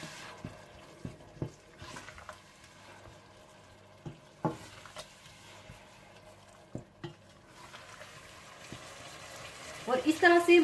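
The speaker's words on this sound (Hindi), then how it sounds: "आप मसाले में पानी डालकर अच्छी तरह से भून लीजिएगा" A masala of green chilies, cumin, coriander, red chili powder, turmeric and salt, with water added, is fried in a pot: sparse spoon scrapes and knocks, then a louder sizzling bubble at the end.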